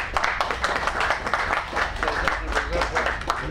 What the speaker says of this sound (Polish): Serdecznie podziękujmy księdzu oklaskami.